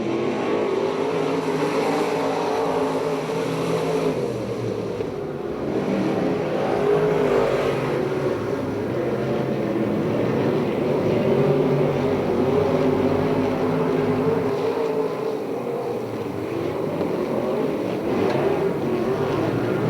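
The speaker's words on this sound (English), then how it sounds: "Keep an eye on the black car, Crow" Stock cars race around an oval track at Perris, their engines roaring loud and continuous as the pack passes, with the revs swelling and falling slightly as cars go by. No voices are heard.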